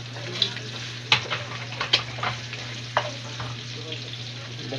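Shrimp frying in plenty of hot oil for a spicy Filipino home dish, with a steady sizzle and a few sharp clinks and scrapes of stirring scattered throughout, no voices.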